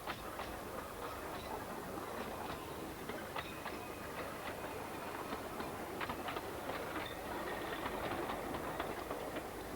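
A vintage double-headed ten-coach train on the Festiniog Railway rolls past, a steady rushing rumble broken by rhythmic wheel clicks, fairly faint and continuous throughout.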